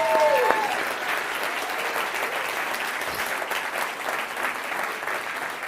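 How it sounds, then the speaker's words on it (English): Audience applause at a studio showcase event, a broad wash of clapping that starts with a brief bright tone and holds steady for several seconds at a moderate level. "Darren, I want to give him a big round of applause"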